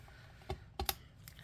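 A small mini paper trimmer slices through paper at a crafting table, giving a few quiet, sharp clicks spaced apart in an otherwise hushed room.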